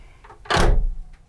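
The bathroom door on a Dehler 34 sailboat swings shut with a single solid thud, close and loud, preceded by a faint creak and followed by a short fading rattle.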